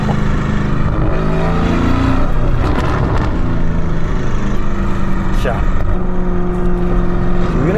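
A Lamborghini Urus with a Novitec exhaust rumbles loudly and steadily from close by, with deep engine drone and a few throttle swells throughout.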